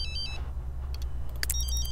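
A phone rings in The Sims 3 video game, bright electronic ring bursts repeating in short clusters over a steady low game hum, with no talk.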